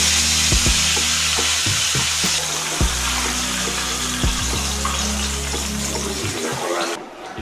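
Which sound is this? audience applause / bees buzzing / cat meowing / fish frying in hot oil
fish frying in hot oil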